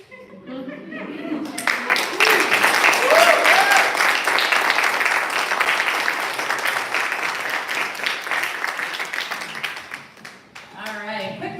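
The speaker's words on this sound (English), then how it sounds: "quick round of applause for all 5 readers" Enthusiastic audience applause follows a poetry reading, a dense burst of clapping that builds quickly, holds for several seconds, then tapers off as a voice begins speaking near the end.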